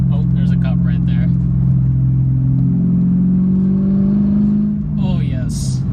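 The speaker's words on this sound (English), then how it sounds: "So let's just downshift." Manual-swapped Mercedes E55 AMG engine revs in a steady, loud low drone that rises and falls through a downshift, with a brief blip near the end; talk is heard over it.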